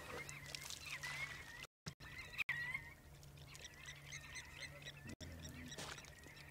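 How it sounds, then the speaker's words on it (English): Birds calling at sunset on a safari in the Sabi Sand reserve, scattered chirps and squawks at low level over a quiet outdoor background with a steady low hum. "Hear the birds starting up again."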